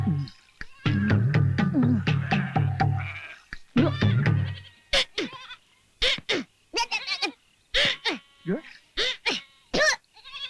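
Goats bleating in a Tamil village comedy scene, a rapid run of short, loud calls following a man's speech, some overlapping and close to the listener.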